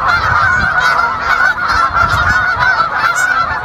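A large flock of geese flying south honks continuously and loudly, many overlapping calls forming a dense, chattering chorus close by.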